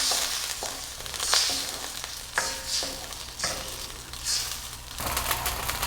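Onion and ginger sautéing in a pan make a continuous close sizzle with regular stirring scrapes and soft taps, steady throughout, and no voices.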